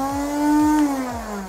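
Dart Zone toy dart blaster with its motor spinning, a steady close electric whine with a faint rhythmic ticking underneath that dips slightly in pitch toward the end, heard alone.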